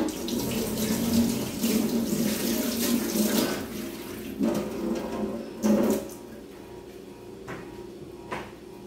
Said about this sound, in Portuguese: Deixa eu lavar a mão primeiro.